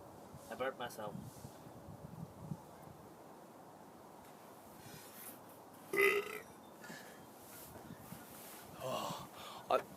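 Several close, loud burps from a person doing pull-ups, short throaty bursts scattered over ten seconds with breathing and rustling between them.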